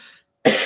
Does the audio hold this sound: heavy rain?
no